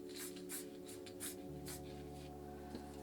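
A Flame Blue spray paint can hisses out purple paint in a string of short, quick bursts, then goes quieter and more sparse, close by and fairly soft.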